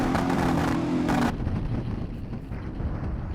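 A car rolling over a bridge, with a steady engine drone and road rumble that holds fairly loud, a brief louder burst of noise early on, then a slightly quieter continuous hum.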